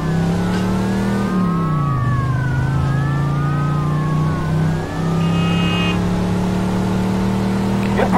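Police sirens wail continuously in a Mafia 2 car chase, rising and falling close by over a steady engine drone, with a brief electronic tone near the end.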